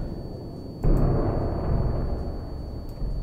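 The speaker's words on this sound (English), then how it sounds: "Gunfire." A loud gunshot blast in the World War II sniper shooter Sniper Elite V2 bursts in suddenly and then trails off into a long, heavy rumbling echo that stays up front.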